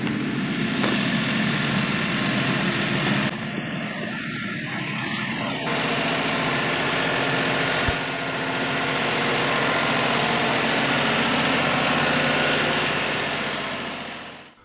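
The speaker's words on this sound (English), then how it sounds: "this is Pro Staffer Phil's new tractor" A 2023 Kioti NX5510 compact tractor idles nearby on a gravel driveway being graded, giving a steady, loud diesel drone with a low hum that holds level throughout, briefly shifting near the middle before fading at the end.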